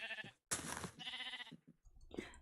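Sheep in the video game Minecraft bleat several times in quick, close succession, short wavering cries separated by brief gaps, fairly quiet overall.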